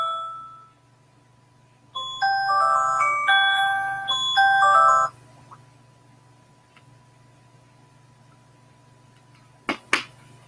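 A cell phone ringtone plays a bright, repeating electronic melody for about three seconds before it cuts off, followed by a low steady hum and a couple of sharp clicks near the end.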